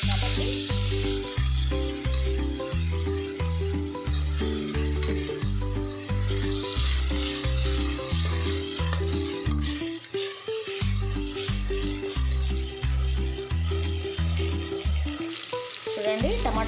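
Tomato pieces frying in a pan for a ridge gourd mutton curry, a steady sizzle with stirring scrapes running under constant rhythmic background music.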